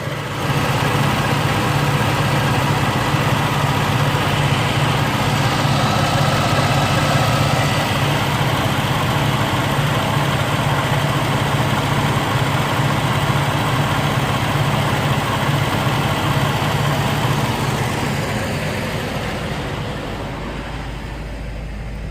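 A rebuilt Mazda B2000/B2200 2.0 engine idles steadily after its first start with a deep, constant rumble and hum, loud and close, tapering slightly toward the end.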